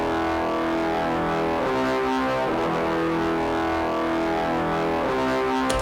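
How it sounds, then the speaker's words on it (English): Sustained layered brass ensemble and brass orchestra patches from a free VST plugin, playing held chords with rich harmonic stacks at a steady loud level, alone without any talking. "For that, I like to use number 21 brass ensemble and number 22 brass orchestra."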